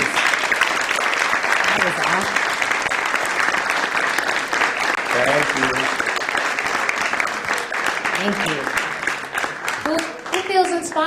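An audience at a talk applauds steadily, broad clapping filling the whole stretch, with a voice speaking over it near the end.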